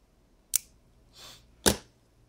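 Scissors trimming material while building a LiPo battery adapter for a Game Boy Advance: two crisp, close snips about a second apart with a soft rustle between them, in a quiet room.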